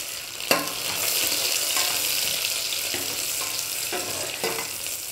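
Steady, bright sizzle of tempering spices frying in hot oil for moong dal, with a few sharp crackles and spoon scrapes breaking through the continuous hiss.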